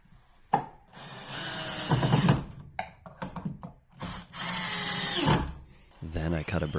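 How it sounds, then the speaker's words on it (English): A power drill bores pocket holes into the wooden top and bottom plates of a solid wood desk, whirring in short bursts that rise and fall, mixed with rubbing and handling noises. "I drilled pocket holes in the top and bottom plates"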